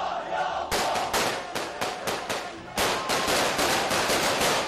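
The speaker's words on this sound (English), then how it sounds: "Gunfire echoed through the streets of Gaza City as the body was accompanied by hundreds of Palestinians" Bursts of automatic gunfire crack through Gaza City streets during a funeral procession, rapid repeated volleys in two long stretches, loud and echoing over a crowd.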